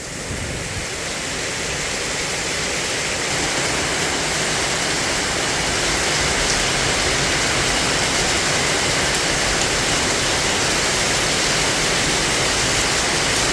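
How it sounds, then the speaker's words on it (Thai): Heavy rain pours without pause in Ban Kruat district, Buriram, a dense steady roar that swells slightly in the first seconds and then holds loud and even, with no voices. "ฝนตกหนักเลยครับ"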